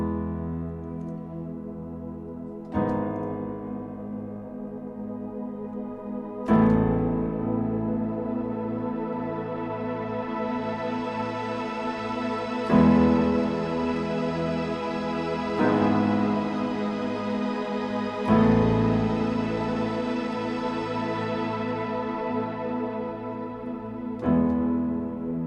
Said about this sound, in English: The first one is a nice dark piano, and it has a pad underneath